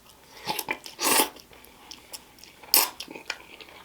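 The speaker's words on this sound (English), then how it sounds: "I absolutely hate the sound of myself chewing." Close crunchy chewing and biting of birria ramen, several irregular loud crunches and softer mouth sounds over about four seconds, with no talking.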